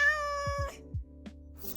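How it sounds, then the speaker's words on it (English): An AI-generated cat meows twice, clear and close, with a bright tonal cry followed by short lower chirps and a faint click, heard alone in a quiet background. "we prompt a cat meowing"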